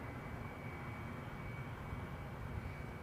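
Jet2 passenger plane at Edinburgh airport, a steady broad engine roar holding at constant level for the whole stretch, heard from a distance with no voices.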